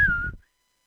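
A short whistled note. It is a single bright tone that bends slightly downward and fades out within half a second, clear and close.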